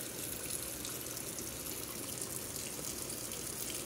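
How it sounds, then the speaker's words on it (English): Water pours steadily into a sprinkler pump check valve, a continuous close gushing rush like a running tap, even in level with no breaks. "Filled that check valve up with water."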